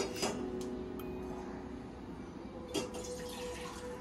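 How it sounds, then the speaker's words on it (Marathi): Water poured into a kitchen pot to be heated for vermicelli upma, with a few splashy drips and trickles rising and fading over a quiet background, no talking. "पहिल्यांदा एका भांड्यामध्ये गरम पाणी करायला ठेवू।"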